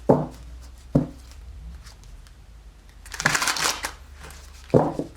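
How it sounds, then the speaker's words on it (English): Three separate bursts of riffling cards, one short, one longer, one short, with quiet pauses between them, close up. "we're going to be using a couple different decks. We're going to have to shuffle each of them."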